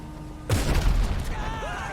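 Explosive rounds firing in GTA Online: a sudden loud boom bursts in and rolls into a dense, rumbling blast that slowly decays, leaving a lingering whine at the end.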